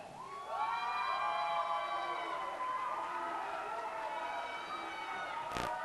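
A wrestling crowd cheers and shouts in support of CIMA, a Japanese wrestler, with a sustained roar of many voices and rising whistles and yells that hold steady for several seconds before a sharp clap at the end.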